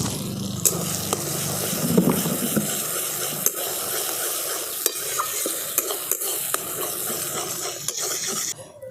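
Mango pulp frying in hot ghee while being stirred, a steady low sizzle with repeated scraping clicks of the spoon against the pan, close and unhurried, no voices.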